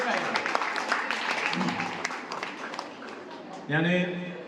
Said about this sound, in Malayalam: അവരെല്ലാവരും കൂടി ഒരു നല്ല കൈയടി അടിക്കുന്നതാണ്